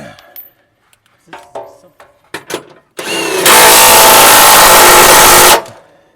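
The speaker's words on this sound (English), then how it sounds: "just tightest setting on your impact and go until it stops spinning" An impact wrench tightens spring mount bolts during an H&R spring install on a 2025 Ford Explorer ST, giving one loud, close, sustained burst of about two and a half seconds after a few softer clicks and handling noises.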